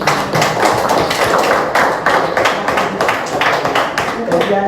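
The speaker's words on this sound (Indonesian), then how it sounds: "Iya, tepuk tangan." A classroom of senior high school students claps after a group presentation: dense, steady patter of many hands close by, with voices mixed in under the clapping throughout.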